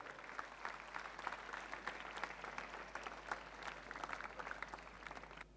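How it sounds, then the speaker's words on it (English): Audience applause for school teachers and choir members at a platinum jubilee celebration, dense steady clapping from a large crowd sustained throughout at moderate, fairly distant level. "Let's give them all a big round of applause,"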